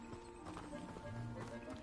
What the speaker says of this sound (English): Hippogriff.